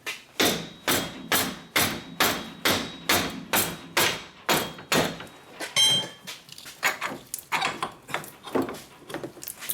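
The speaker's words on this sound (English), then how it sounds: "I need to tap the whole hub" A hammer strikes a Ford Focus wheel hub repeatedly, about two blows a second, each a loud close metallic bang. The steady rhythm breaks up into quieter, irregular knocks and scraping toward the end.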